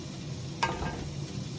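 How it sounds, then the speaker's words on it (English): Onions fry in a pan while cooking a Sierra Leonean potato leaves stew, a soft continuous sizzle with a single sharp stir or scrape of a utensil partway through, faint and close with no talking. "Now the onions have been frying for some time."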